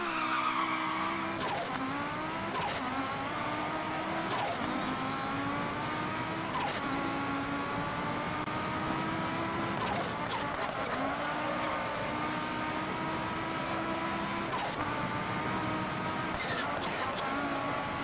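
A rally car's engine in a Pikes Peak hill-climb racing sim revs steadily and loudly, rising through the gears with a repeating climb-and-shift pattern and occasional tire squeal, continuous throughout.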